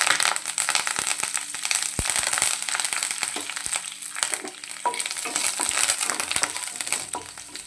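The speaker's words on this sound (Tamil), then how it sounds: "நெக்ஸ்ட்டாக நம்ம இதில் கருவேப்பிலை போட்டுக்கலாம்" Curry leaves frying in hot oil while being stirred: a steady, crackling sizzle runs throughout, punctuated by sharp ticks and scrapes of a spoon against the pan.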